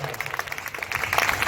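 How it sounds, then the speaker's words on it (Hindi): An audience claps at a Hindi poetry gathering (kavi sammelan) during a festival, a brief burst of dense applause that swells toward the end. "तालियां बजाइए एक बार जोरदार।"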